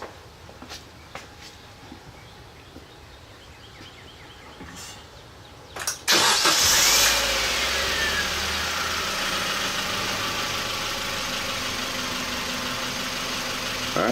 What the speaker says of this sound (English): I think we're going to go ahead and start the vehicle